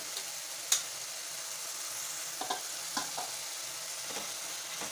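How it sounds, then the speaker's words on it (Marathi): Dry spices, red chili powder, turmeric and coriander powder, sautéing in a pan for a green peas curry: a soft steady sizzle with a few sharp clicks of a spoon against the pan, fairly quiet. "परतून घेऊया सुके मसाले टाकल्यानंतर मसाला पुन्हा पाच मिनटासाठी फ्राय करून घ्यायचा"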